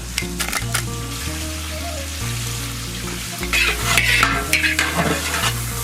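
Mustard oil with bay leaf and dried chilli frying in a pan, giving a steady close sizzle with stirring scrapes over a low, stepped musical bass line.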